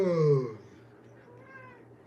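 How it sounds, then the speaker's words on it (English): A cat gives one loud, close meow at the start, followed by a fainter, quieter mew against a low background hum. "What's up, kitty cat?"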